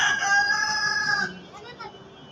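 A rooster crows loudly and close by among pigeons and chickens in a household coop, one long drawn-out call that breaks off midway, followed by faint rustling and a soft voice.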